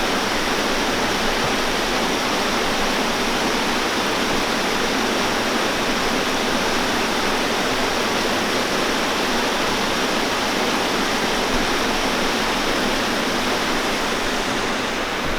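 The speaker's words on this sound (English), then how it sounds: "Waterfall." Waterfall beside a nature trail, a continuous loud rushing roar of falling water, steady and close with no voices over it.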